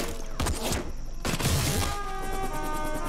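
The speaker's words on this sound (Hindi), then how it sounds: "एनिमी की बहुत हैवी फायरिंग हो रही है सर।" Heavy gunfire in an action movie battle scene comes as dense, loud bursts of shots and crackling impacts, layered with a continuous music score and effects.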